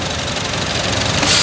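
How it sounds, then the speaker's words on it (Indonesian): A car engine fitted with an open air filter is revved up close, giving a loud, rough, continuous roar with strong intake noise that climbs toward the end. No one speaks over it. "Nah, kalau digas nih bunyinya begini nih."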